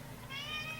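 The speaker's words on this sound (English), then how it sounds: "if you hear some meowing, my cat decided she wanted to be in the room too." A pet cat lets out a single short, faint meow indoors, a brief rising tone over quiet room noise.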